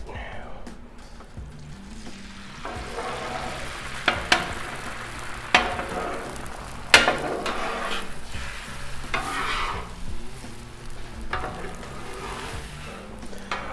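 Eggs fry on a Blackstone griddle with a constant soft sizzle, broken by several sharp metal spatula scrapes and taps at irregular intervals. The sound is close, with no talking.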